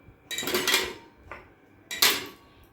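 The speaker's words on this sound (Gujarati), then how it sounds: "કુકરમાં કાણાવાળી ડીશ મૂકી અને અંદર આ વાડકીઓ ગોઠવી દેવાની" Small bowls for baking biscuits set down onto a perforated plate inside a pressure cooker lined with salt, two distinct close clattering clinks about a second and a half apart, with a faint tap between them.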